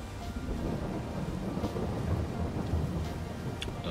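Rain with rolling thunder in Farming Simulator 22, a steady downpour under low rumbling peals, with a few sharper cracks, heard alone with no talk.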